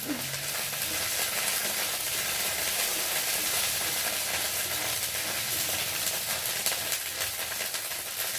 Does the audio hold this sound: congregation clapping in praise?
no